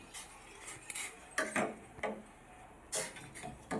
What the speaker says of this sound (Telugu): వేసుకొని ఇలా గడ్డగా మనము మాడకుండా ఇలా తిప్పుకుంటూ ఉండాలి.